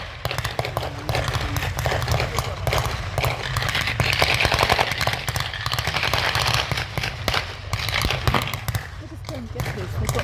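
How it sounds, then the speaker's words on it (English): MP40 submachine guns fire blanks at a WW2 battle reenactment at Tankfest 2025: dense, continuous crackling bursts of rapid shots at moderate distance, with people talking over them throughout. "Germans here are using the MP40 submachine pistol"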